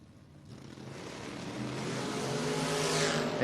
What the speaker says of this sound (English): 1966 Dodge Dart, 499 cubic inches of Mopar motivation.